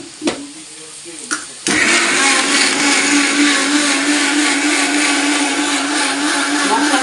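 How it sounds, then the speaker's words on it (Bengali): A mixer grinder blends chili spice paste, starting with a few short clicks and bumps before the motor kicks in at about 1.7 seconds and then runs as a loud, steady whirring drone until the end. "আমি এখন মিক্সি মেশিনে এটাকে পেস্ট করে নিয়েছি।"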